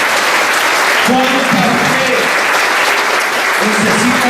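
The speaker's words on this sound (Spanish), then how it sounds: "Den un aplauso al Señor Jesús." Church congregation applauding during a Spanish-language worship service, a loud, steady wash of clapping through the whole stretch, with a voice and tonal sounds rising over it partway through.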